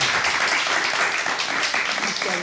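Brief burst of audience applause welcoming a singer onto a stage at a televised music event, dense and fairly loud throughout the short span, with faint voices mixed underneath.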